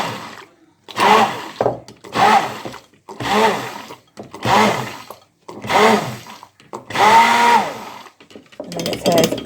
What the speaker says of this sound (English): Then I've got my half tin of plum tomatoes in there, which I'm gonna just blitz with my blitzer.